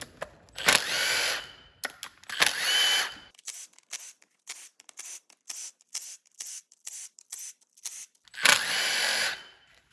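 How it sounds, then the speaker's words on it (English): A power tool, likely an impact driver, works on the valve cover bolts of a GM 3.6 V6 engine in a series of loud whirring bursts separated by short pauses and quick clicks, with no talking. "we're going to go ahead and remove all the bolts all the way around the valve cover"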